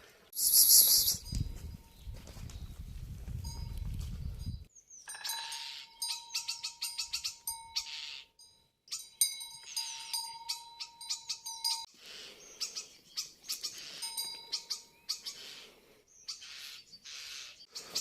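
Birds chirp and trill repeatedly in short bursts in a village on a rainy day, over a quiet background, with a loud rustling noise at the start before the calls begin.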